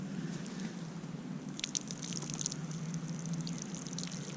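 Water runs along the uphill side of an insloped woodlot gravel road, a faint, steady trickling pour with a few soft splashy drips partway through.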